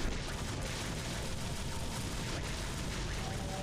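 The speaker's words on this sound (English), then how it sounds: "It just sits there exploding for a few seconds on top of everything" An enemy in Devil May Cry keeps exploding, a dense continuous roar of blasts and crackling bursts that stays loud and steady for several seconds with no letup.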